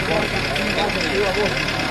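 A car engine idles with a steady low rumble, fairly close and continuous.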